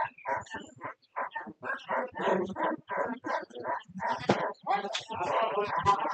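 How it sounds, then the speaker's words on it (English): A loose dog barks repeatedly at a baseball park during a junior Legion tournament championship game, its yelps blending with steady voices talking throughout. "Someone's dog is loose here at the park."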